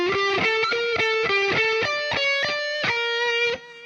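Distorted electric guitar playing two measures of a minor chorus, a quick run of picked notes in steady rhythm, close and loud, ending on a held note that cuts off.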